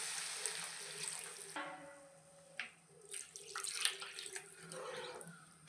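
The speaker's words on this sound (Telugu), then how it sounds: "ఇప్పుడు ఒక 2 గ్లాసులు వాటర్ వేసేసుకోవాలి." Water is poured into a pan of frying broad beans, starting as a hissy rush that turns to splashing and gurgling, with a few sharp clicks and splashes.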